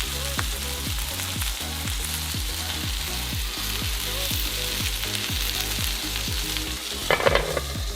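A burger patty with cheese on top sizzles steadily in a pan, a close, continuous frying hiss with a brief clatter near the end and a low rhythmic hum underneath.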